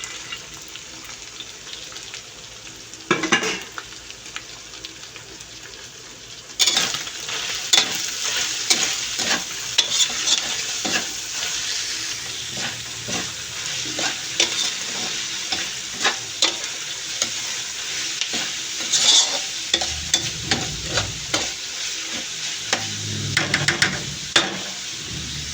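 Carrots stir-fried with ground pork in a pan, with loud, steady sizzling and repeated scraping and clanking of the utensil against the pan, without talk.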